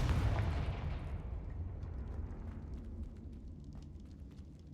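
A Confringo fire spell blast in Hogwarts Legacy lands as a loud, deep boom that rumbles and slowly decays over several seconds, with crackling debris scattered through the tail.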